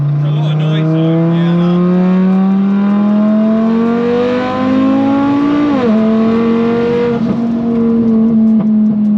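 A 1400bhp Audi TT RS engine accelerates hard, its loud roar climbing steadily in pitch, briefly dipping at a gear change, then pulling again, close and continuous with faint voices underneath.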